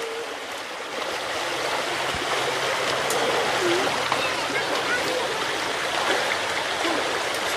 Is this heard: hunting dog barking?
no